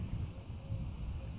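Wind blowing across a microphone outdoors in a backyard on a windy day, a low, uneven rumble of buffeting gusts that stays fairly quiet.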